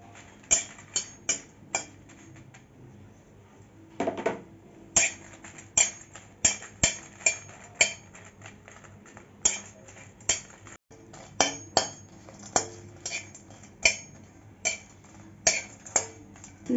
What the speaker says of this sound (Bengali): এখন লঙ্কাটা দিয়ে আগে ভেজে নেব।